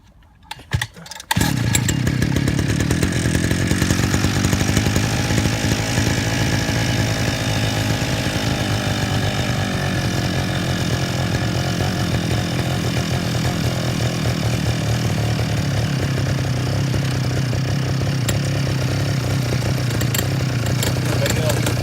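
A homemade 50cc engine starts with a few sputtering pulls and then runs loudly and steadily, a buzzing, raspy drone that holds close and constant to the end.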